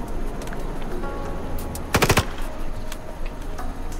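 A short, loud burst of rapid gunfire from a powerful scoped gun in the shooter game IGI 2 cracks out once, standing above a steady bed of game ambience with no talking.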